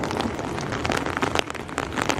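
Steady rain falls during a thunderstorm, a dense, even hiss of drops pattering on surfaces close by, with no voices.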